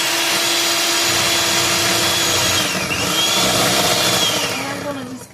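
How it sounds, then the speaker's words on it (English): An electric hand mixer whirs steadily on high speed, beating vanilla cake batter in a home kitchen, with a constant motor whine that dips briefly before fading near the end, and no talking. "And I'm going to mix it until it turns from yellow to white."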